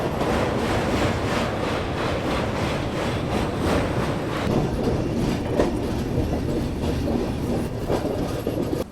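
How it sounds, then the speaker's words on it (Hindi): A passenger express train passes close by, its wagons rolling with a steady, loud clickety-clack of wheels over rail joints for the whole stretch, with no talk. "तो बाकी ये कौन सी ट्रेन है? ये पटना इंदौर लग रही है मेरे को"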